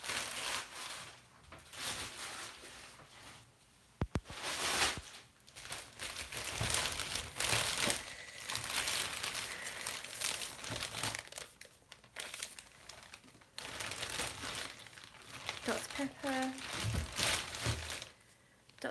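Plastic grocery bags crinkle and rustle loudly and almost constantly, close by, as items are pulled out and the bag is emptied, with a brief voice near the end.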